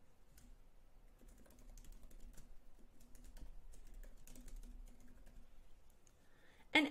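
Keys tapped steadily on a computer keyboard as text is entered into a content area, a soft continuous patter of light clicks with a louder clatter at the very end, no voices.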